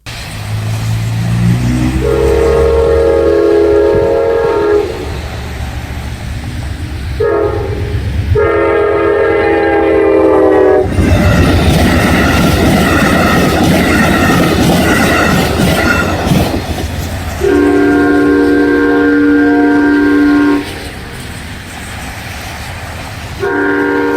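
A train passes a railroad crossing fitted with electronic bells, with loud repeated horn blasts, rumbling wheels and a stretch of broadband rail roar between the horn calls, all close and dominant.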